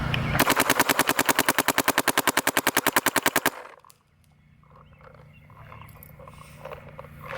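Shocker AMP paintball marker fired in NXL 10.5 mode, a rapid, evenly spaced burst of sharp pops lasting about three seconds, loud and close, then stopping abruptly into quiet background.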